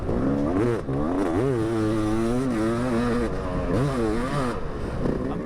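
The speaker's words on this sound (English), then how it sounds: "I'm going to show you 2 laps here of Rob riding the YZM 500." A Yamaha YZ 500 two-stroke motocross bike is ridden on a track, its loud, raspy engine rising and falling in pitch through repeated throttle surges and gear changes.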